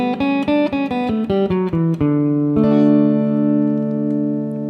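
A major scale played note by note, about eight evenly spaced plucked tones stepping through the scale with a steady rhythm, the last note ringing out long and clear, loud and alone.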